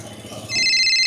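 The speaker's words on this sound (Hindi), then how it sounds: "किसका फोन है इस टाइम?" A telephone starts ringing halfway through, a loud electronic ringtone with a steady pulsing tone, following a moment of quieter indoor background.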